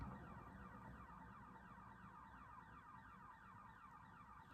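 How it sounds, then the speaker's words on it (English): A car alarm goes off outside, a faint, distant repeating electronic warble that continues unbroken under steady low background rumble. "Whose car alarm is going off?"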